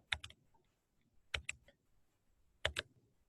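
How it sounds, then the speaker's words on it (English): The tab key on a computer keyboard is pressed in three quick double taps, crisp close clicks separated by near-silent pauses. "if I keep clicking tab on my keyboard"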